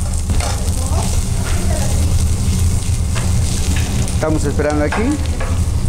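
Garlic and onion fry in hot oil with a loud, steady, close crackling sizzle that carries through the whole stretch, and a voice speaks briefly near the end.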